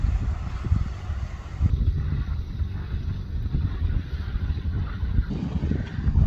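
Boats move through a narrow canal in Smögen, a low steady rumble of motors mixed with wind buffeting the microphone, continuous and moderately loud without any talk.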